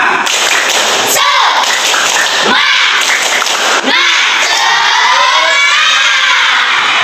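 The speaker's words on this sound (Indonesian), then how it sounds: "Sekarang kita tepuk semangat dulu biar ada semangatnya." A class of elementary schoolchildren performs the 'tepuk semangat' clapping chant, loud rhythmic group claps and thumps with shouted voices bursting in between, all close and energetic.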